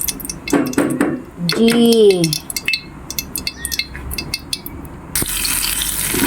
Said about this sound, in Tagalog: stir fry na natin ang garlic